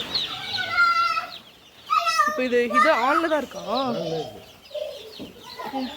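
Newly hatched chicks cluck and chirp close by on a poultry farm in a busy, overlapping chorus while people talk over them.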